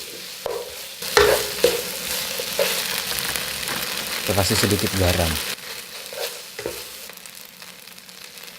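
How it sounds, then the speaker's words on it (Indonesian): Minced meat stir-fries in a hot pan with a continuous sizzle, while a spatula scrapes and tosses it in uneven strokes; a person speaks briefly over the cooking. "Lalu kita masak lagi, kita tumis lagi."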